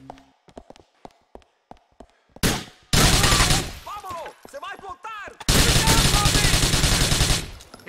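Grand Theft Auto 4 gunfire: a series of sharp single shots, then sustained loud bursts of automatic fire broken by shouted voices, close and harsh.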